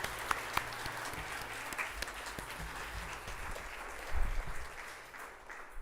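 Audience applause for seniors at a National Technology Day celebration, soft scattered clapping heard from a distance, with a brief louder low bump near the end.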